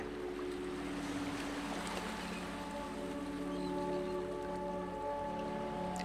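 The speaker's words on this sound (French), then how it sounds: "Écoutez le bruit des vagues." Ocean waves on a sandy shore make a soft, continuous wash of surf under light wind, faint and steady throughout.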